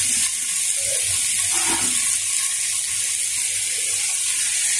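Water poured into a cooking pot for egg pulao, a continuous splashing hiss with brief clinks of the vessel, close and fairly loud, no voices.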